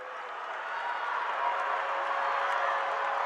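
A high school boys' tournament basketball crowd cheers and claps in a broad, steady wash that swells slightly over a few seconds, heard from within the gym.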